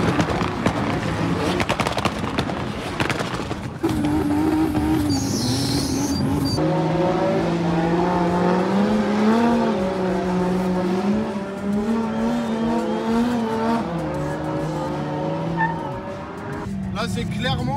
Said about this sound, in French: Là c'est clairement pour brûler du pneu, il n'y a rien à faire de plus.